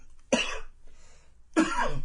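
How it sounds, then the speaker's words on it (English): Two sharp, close coughs separated by a short pause, each a harsh burst with a breathy tail; no talking. "I had to cough, excuse me."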